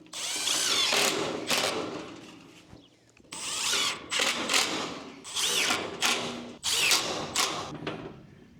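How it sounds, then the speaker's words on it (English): Power drill driving 1-inch roofing screws into a tall wooden garden bed, several bursts of whirring drilling separated by short pauses, loud and close. "Just got some 1-inch roofing screws to attach this."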